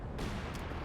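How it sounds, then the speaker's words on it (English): Artillery shells landing in a Company of Heroes 2 battle, a dense rumbling barrage of booms and blasts filling the whole moment, steady and loud with no pause. "Artillery coming in right on the mortar half-track"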